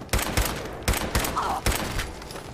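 Gunfire in Fallout 4 comes as several loud, sharp bursts of shots separated by brief gaps, each with a booming low end and a short tail.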